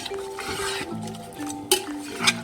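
Meat is stirred with turmeric and coriander powder in a pressure cooker pot for palak gosht, metal spoon scraping and clinking against the pot in uneven strokes, with a few sharper clinks near the end and no speech.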